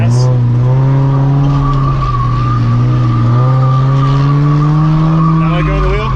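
A drifting car roars under throttle, its engine droning steadily as the tires squeal in a continuous rising and falling screech, loud and close from inside the car, with voices talking over it.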